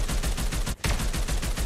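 Mythic Bright Blade FFAR 1 rifle in Call of Duty Mobile firing a rapid, loud automatic stream, broken by one brief pause before the shots resume.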